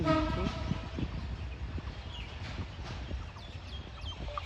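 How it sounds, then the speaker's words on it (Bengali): A Bangladesh Railway EMD locomotive hauling the Rupsha Express rolls into Santahar Junction with a low, heavy rumble, and brief horn-like tones open the passage. Voices are faintly present. "আন্তনগর রূপসা এক্সপ্রেস শান্তাহাট জংশনে প্রবেশ করলো"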